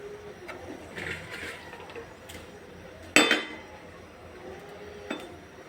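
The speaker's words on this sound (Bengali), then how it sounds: "বাকি শাপলাগুলো দিয়ে দিচ্ছি ঢেলে।" Remaining water lily stems tipped into a cooking pot for a prawn fry land with one sudden clattering splash at mid-clip, followed by a fading rustle, with faint kitchen clinks before and after.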